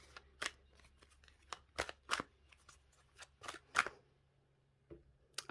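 Oracle card deck being shuffled: quiet, close-up papery riffles and soft snaps coming in irregular short bursts over near silence, with no talking.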